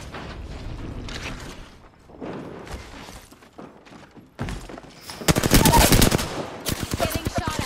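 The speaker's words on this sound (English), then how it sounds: "Getting shot at." Rapid bursts of automatic gunfire from the video game Apex Legends, starting with scattered distant shots and then swelling into loud, dense volleys near the end.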